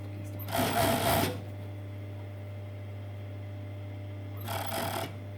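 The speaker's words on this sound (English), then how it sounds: "we're just going to overlock around, keeping those edges together." An overlocker sewing machine stitches the edges of knit fabric for a cowl neck top in two short bursts of rapid whirring, each about a second long, over a steady low electrical hum.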